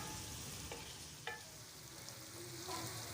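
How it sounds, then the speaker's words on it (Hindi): Chopped vegetables frying in a pan for Mexican chicken rice give off a steady, soft sizzle, with a few light scrapes and taps of a stirring spoon and no talking. "तो हमारी जो है सब्जियां जो हैं वो फ्राई हो गई हैं।"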